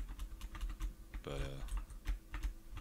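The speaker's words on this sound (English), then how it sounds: "So like mine kind of dives if you don't hammer the space bar, which is that annoying clicking noise you're hearing." Computer keyboard space bar hammered repeatedly while playing Robocraft, giving a quick run of close, sharp plastic clicks with a brief voice partly over them.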